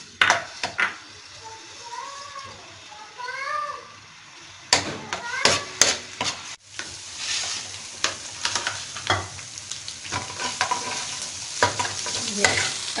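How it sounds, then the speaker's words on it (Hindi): Ginger-garlic paste frying in oil for a mutton achari karahi, a bright sizzle with spoon scrapes and clatter, while children's voices chatter in the background. "ये अदरक और लहसुन को हमने फ्राई कर लिया"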